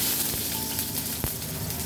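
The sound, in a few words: sliced onions frying in hot oil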